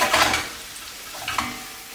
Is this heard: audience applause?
no